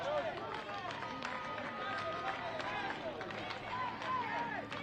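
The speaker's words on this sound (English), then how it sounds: "The crowd starting to clap, getting pumped up, trying to cheer on the home side." Crowd at a Concacaf boys' under-15 football match clapping in rhythm to cheer on the home side, a steady patter of claps from a distant stadium crowd under a commentator's voice.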